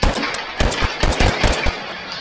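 Quick sharp revolver shots from the VR game H3 ring out in a fast irregular string of about half a dozen, loud and up close with no talking.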